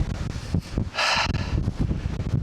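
Wind buffets a microphone on an exposed ridge in the Scottish Highlands, a steady rough roar with brief gust swells and a burst of hissing rush near the middle, loud and close throughout.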